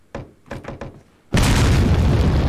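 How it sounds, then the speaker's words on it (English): A grenade blast in Resident Evil 4: Separate Ways lands as a loud, sustained explosive roar. It follows a few sharp knocking thuds in-game and fills the rest of the moment with broadband rumble. "I'm probably wasting a grenade right now, though."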